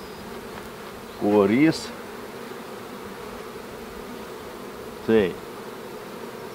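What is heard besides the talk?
honey bees buzzing in a drone-laying colony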